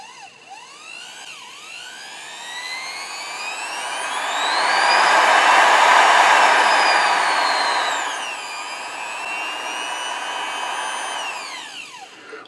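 A 0.8 ampere sewing machine motor on a Willcox & Gibbs controller whines alone, its pitch climbing, holding high, then dipping and rising again as the speed is varied, loud and steady throughout.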